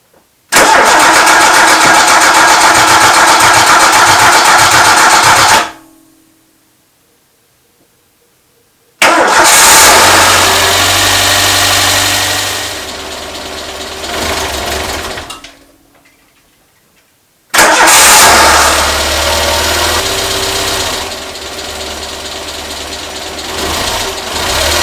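A Renault Super 5 is cranked and fires loudly up close, then settles into a steady idle. It cuts out after a few seconds, is restarted and idles again, then stalls once more and catches a third time.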